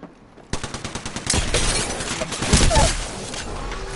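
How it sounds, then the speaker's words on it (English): Gunfire in the video game Apex Legends: a quick rhythmic string of close shots, then a louder dense volley with shattering impacts, continuing at high level to the end with no talk. "I am taking fire, friends."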